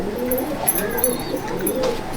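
Andhra Kalanka pigeons in a loft at Subhasgram, softly cooing in short repeated low calls with a faint background hum.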